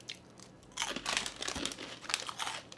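A crunchy keto snack is chewed close up, brittle crackling crunches in quick irregular bursts after a brief quiet moment, with no speech.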